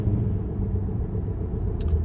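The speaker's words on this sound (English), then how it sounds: "Traffic buzzing by, everybody's speeding." Road traffic buzzes past a driven car, heard from inside as a steady, low rumble that stays loud and unbroken throughout.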